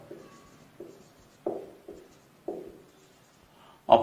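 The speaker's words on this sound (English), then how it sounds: "I'll write it small." Chalk or marker strokes scrape on a board in short separate bursts, quiet and close, ending with one sharper, louder stroke.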